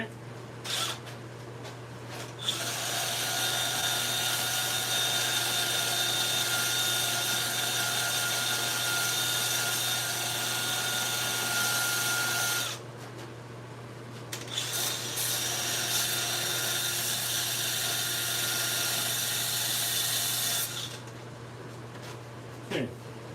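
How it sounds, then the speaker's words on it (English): A wood piece spins on a lathe while being sanded, producing a steady loud whirring hum with scratchy friction, stopping briefly midway and resuming. "Now just sand that down so that it fits in there."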